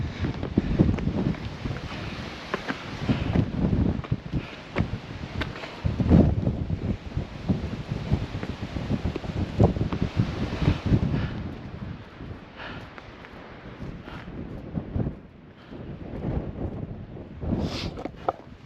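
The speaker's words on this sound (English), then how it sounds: "The wind's really picking up now." Strong gusty wind roaring across an exposed Welsh mountain ridge near Glyder, buffeting the microphone in loud, surging waves with brief lulls and no talking.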